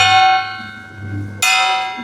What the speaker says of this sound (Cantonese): 呢度咧就有2個銅鑼，我哋一陣間敲下佢都有啲咩唔同喎